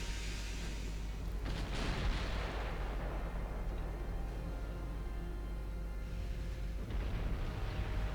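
Battleship guns fire in the naval game Ultimate Admiral Dreadnoughts, two deep booming salvos a few seconds apart, each followed by a rolling rumble over a steady low background.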